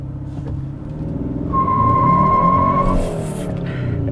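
A 2022 Hyundai Sonata N-Line makes a launch start with traction control off in Sport Plus mode, engine roaring loudly up close as the tires spin and screech briefly, no voices.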